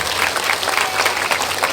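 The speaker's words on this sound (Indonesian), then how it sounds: "Tepuk tangan dulu dong buat ibu-ibu kita" Village hall audience at a humorous Islamic sermon clapping for the mothers present, a loud, dense, continuous patter of many hands filling the whole stretch.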